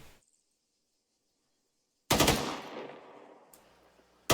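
A loud burst of rapid gunfire erupts after a quiet stretch, rattling and fading out, then a second sharp burst cuts in at the very end.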